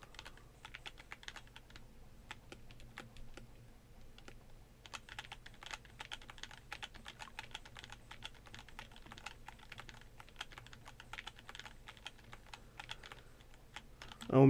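Rapid clicking keystrokes on a mechanical computer keyboard, close and fairly quiet, come in irregular bursts that run nearly continuously with short pauses, alone without talk.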